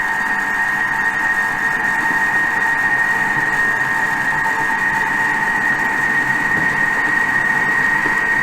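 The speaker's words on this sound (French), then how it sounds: "on va mélanger de nouveau. 10 secondes, vitesse 3." A food processor whirs steadily at speed 3 as it mixes brownie batter with pecans, a continuous close motor hum with no talking.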